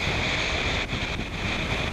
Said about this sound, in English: It's Atlantic Ocean, 30 knots of breeze, 30 knots of boat speed, big seas